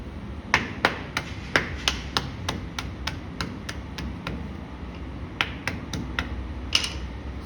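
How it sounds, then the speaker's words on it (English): A hammer strikes charcoal to break it into small pieces, sharp, close knocks in a steady series of about twenty blows with a brief pause in between, over quiet room noise. "we want to make the pieces for the charcoal smaller, so we use the hammer."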